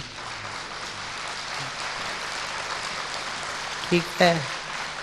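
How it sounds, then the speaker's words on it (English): Audience applause fills a spiritual class at Gyansarovar as a steady, broad wash throughout, with a man's brief spoken remark near the end. "So now you're going to clap?"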